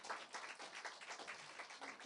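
Audience at a science and technology policy forum clapping for two professor presenters, a brief, fairly faint patter of hands in a hall, uneven and short-lived.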